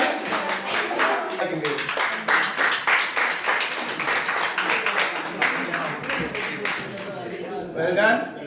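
An audience claps through a community Tamil New Year celebration, a dense run of sharp hand claps, with a voice speaking over the applause.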